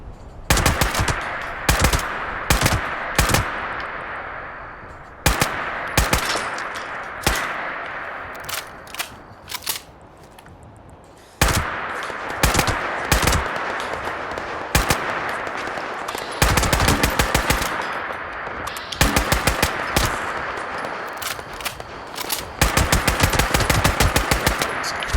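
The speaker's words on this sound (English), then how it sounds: "if I shoot now, I should be able to do a few shots without any kick at all" Combat rifle fired in Fallout 76, loud bursts of rapid automatic shots in repeated clusters separated by short pauses, close and dominant throughout with no talk.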